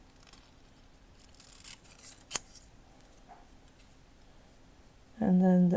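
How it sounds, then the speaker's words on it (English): Small scissors snip fine details for a miniature kitchen model, with soft scraping cuts and one sharp, crisp snip close up, followed by a louder burst of sound at the end. "I'm just gonna concentrate about cutting these small details"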